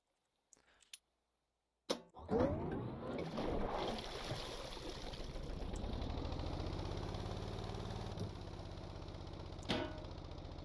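A helicopter engine in the Stormworks game idles with a steady droning hum that stays level and fairly loud, after a short silent gap and a few brief clicks at the start.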